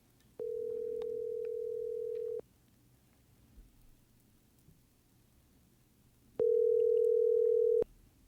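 Outgoing telephone call ringback: two long steady tones about two seconds each, separated by a quiet gap of roughly four seconds, clear and alone on the line.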